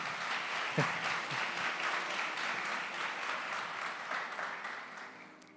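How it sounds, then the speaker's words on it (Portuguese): A church congregation applauds the Lord during a Sunday service, a dense, sustained roar of many hands clapping that holds steady and tapers slightly near the end. "Pode aplaudir ao Senhor, queridos."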